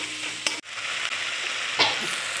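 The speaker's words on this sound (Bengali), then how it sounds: "এবারে সমস্ত মশলা আর টমেটো দিয়ে একটু মানে ভালো করে কষিয়ে নিতে হবে" Spices and tomato frying in oil for an egg and potato curry, with a constant close sizzle and crackle, broken by a couple of brief stirring scrapes.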